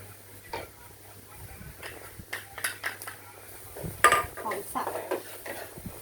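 Minced pork being stir-fried for Thai sago dumplings with pork filling: a metal spatula scrapes and clatters against the pan in irregular bursts, with a low steady hum underneath and occasional soft speech.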